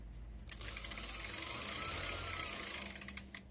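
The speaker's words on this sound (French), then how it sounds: "Donc si on fait des impulsions, le moteur doit s'enclencher." A DIY electric bike motor kicks in when the pedal sensor pulses, whirring up quickly to a steady mechanical whine with rapid ticking, holding for about two and a half seconds and then winding down, with no talking.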